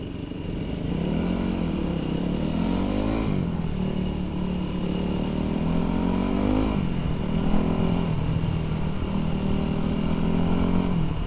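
A 2005 Yamaha WR450 dirt bike engine drones steadily while riding, pitch rising and falling with throttle changes, loud and continuous throughout with no talk.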